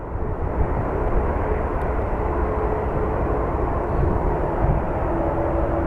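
A Prime Air Boeing 767 jet at Sky Harbor International Airport in Phoenix gives a loud, steady engine roar that holds broad and constant throughout, with no talking over it.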